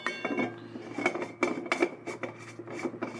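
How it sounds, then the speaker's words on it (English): Light metallic clinking and rubbing of a collapsible metal straw, metal on metal, a run of small irregular taps and scrapes close by, with no voices. "because it's metal with metal, it's gonna make a little noise"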